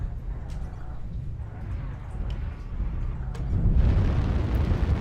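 An incoming missile strikes a battle mech in a mech combat game, building from a low rumble of battle noise into a deep, swelling explosive roar in the final seconds, fairly close and heavy.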